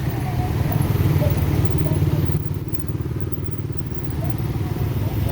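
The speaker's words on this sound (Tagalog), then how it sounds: "Ay, motor." A motorcycle engine in slow roadside traffic gives a steady low rumbling putter that stays fairly close throughout, with street clatter around it.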